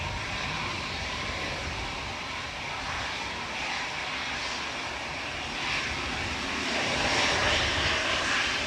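An easyJet Airbus A319 rolls for takeoff at Manchester Airport, its jet engines giving a broad, steady roar heard from a distance that swells louder near the end.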